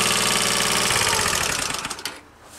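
A Honda Passport motorbike engine with a noisy bottom end runs steadily and loud, its rapid mechanical clatter fading down near the end as it winds off.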